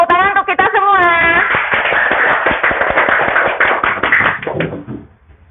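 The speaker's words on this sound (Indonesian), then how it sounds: "Oke, tepuk tangan untuk kita semua." A classroom of schoolchildren applauds together at close range, a dense burst of hand claps that carries steadily for several seconds, with children's voices over the start, then fades out.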